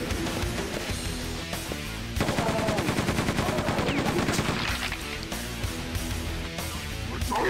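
Rapid machine-gun fire from the Quake 2 shooter game, a dense, continuous burst of loud repeated shots through the middle of the passage, set over steady game background sound.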